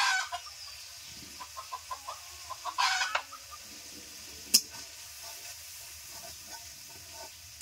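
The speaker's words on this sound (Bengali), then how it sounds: "মশলা ভালো করে কষে নিচ্ছি।" Spices with turmeric frying in a pan for a winter vegetable chicken curry, heard as soft sizzling under a series of quiet spoon scrapes and taps as they are stirred, with a couple of sharper clinks, fairly close.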